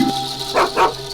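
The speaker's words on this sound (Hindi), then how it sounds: "कुत्ते भौंक रहे" Dogs barking, two short nearby woofs in quick succession over a faint tonal background.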